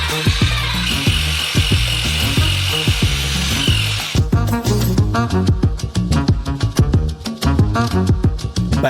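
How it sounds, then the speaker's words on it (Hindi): A construction mixer churns sugar and water batter in buckets for a giant DIY Ferrero Rocher, a loud grinding motor whir with rapid rattling scrapes, steady and close, shifting to choppier knocking halfway through. "एक कंस्ट्रक्शन मिक्सर से हम मिश्रण करेंगे।"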